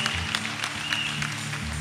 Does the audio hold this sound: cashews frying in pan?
no